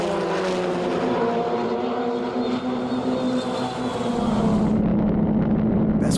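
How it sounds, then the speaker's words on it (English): Formula Regional Americas open-wheel race cars at Canadian Tire Motorsport Park: a sustained high engine whine with steady harmonic tones that shifts pitch slightly as a car passes, loud and close, then thins out near the end. "James Lawley in the 88 Atlantic Racing Team machine."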